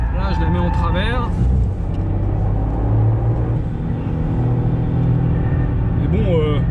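A 2020 Toyota GR Yaris, the 250 hp four-wheel-drive version, is driven sideways in a drift, its engine a loud, sustained, close rumble with a voice briefly over it near the start.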